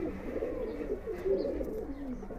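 A Giribaz pigeon coos in low, continuous throaty burbling, close and moderately loud over a faint background hum.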